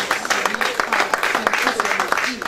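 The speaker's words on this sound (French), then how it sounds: "je vais vous demander de faire un tonnerre d'applaudissements pour Henry Jor" An audience applauds in tribute to Henri Ndjoh at a memorial homage, a dense, steady patter of many hands clapping for a couple of seconds with voices mixed in.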